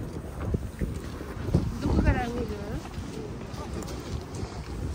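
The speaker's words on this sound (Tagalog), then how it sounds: "Ang lakas ng hangin, guys." Steady roaring wind buffets the microphone throughout at dawn near Haneda Airport, Tokyo, with low rumbling gusts and a brief voice partway through.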